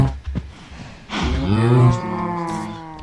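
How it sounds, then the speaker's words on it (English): A Minecraft cow lets out a long, loud, deep moo that swells and fades, preceded by a few soft thumps and clicks. "I can't hear you over these cows."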